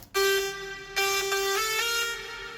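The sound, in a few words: layered synth lead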